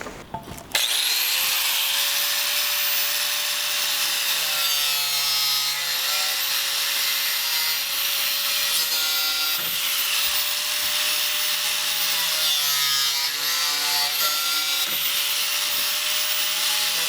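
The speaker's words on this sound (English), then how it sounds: "I'm going to use angle grinder with ear protection and glasses" An angle grinder cutting through pipe for an auto U siphon: a loud, continuous high-pitched whine with gritty cutting noise, pitch dipping slightly as the disc bites, sustained close up for the whole stretch after a brief start.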